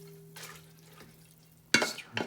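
Cabbage being stirred into soup in a pot, soft wet scraping and a sharp clatter of utensil against the pot near the end, with a low hum underneath.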